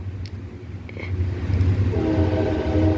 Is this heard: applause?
no